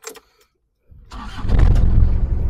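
A 2002 Toyota Revo engine cranks and catches on the first try, the brief starter whir quickly building into a loud, steady idle rumble close by with no talking.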